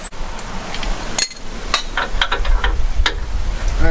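Hand wrench work loosening differential drop bracket bolts on a 2006 Jeep Grand Cherokee 5.7L, giving several sharp metallic clanks and ratchet clicks spread across the clip over a steady background rumble.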